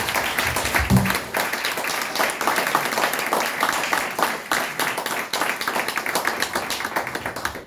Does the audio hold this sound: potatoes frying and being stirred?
no